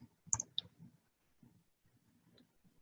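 A computer mouse gives two quick, faint clicks close together, followed by a softer click a couple of seconds later in an otherwise quiet room.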